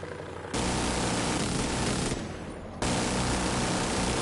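An automatic rifle fires in sustained bursts in The Division 2 shooter game, a dense, loud, continuous rattle with a short break before a second burst resumes.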